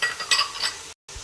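Chopped tomatoes hit a hot pan of oil for chana pulao, giving a short burst of bright sizzling with light stirring and clinking that cuts off abruptly near the end.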